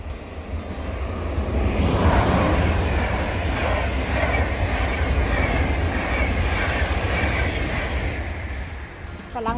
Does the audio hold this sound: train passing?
yes